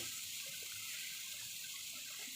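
Water gushes in a steady, even stream into a cooking pot of sautéed tomatoes for a shrimp-head sinigang soup, close and continuous without talk.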